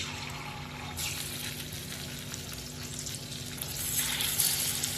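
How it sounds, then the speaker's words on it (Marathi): Potato and peanut vadi shallow-fry one by one in a little oil over medium heat, giving a soft, even sizzle that swells slightly toward the end. "आता आपल्याला एक एक वडी यामध्ये तळून घ्यायची."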